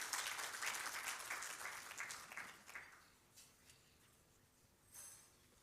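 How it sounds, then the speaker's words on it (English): Applause from an audience at a corporate event welcomes a board chair to the stage, a dense round of clapping that fades out over a few seconds to quiet, with a faint brief rustle near the end. "Let's give him a round of applause as he comes."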